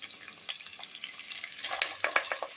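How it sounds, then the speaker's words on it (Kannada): Onions and curry leaves hit hot oil while a spicy chicken gravy is being made. The result is a soft, close sizzle with scattered crackles and stirring scrapes that grow busier and sharper toward the end. "ಎಣ್ಣೆ ಕಾದ್ಮೇಲೆ ಇವಾಗ ಸ್ವಲ್ಪ ಈರುಳ್ಳಿನೂ ಕರಿಬೇವಿನ ಸೊಪ್ಪು ಹಾಕಿ ಚೆನ್ನಾಗಿ ಫ್ರೈ ಮಾಡ್ಕೊತೀನಿ"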